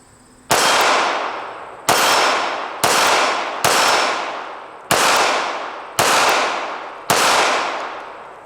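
Seven quick pistol shots from a compact Ruger LCP II firing expanding-tip ammunition, loud cracks roughly one second apart, each trailing off in a ringing echo.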